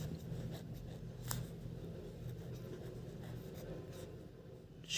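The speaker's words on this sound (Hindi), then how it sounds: "तो यहाँ पे लिखेंगे शेख" A pen scratches across paper in close, soft, irregular strokes over a low background hum, writing out a short word by hand with no talking.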